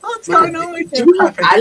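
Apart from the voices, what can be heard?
No everyday noise stands out behind the speech.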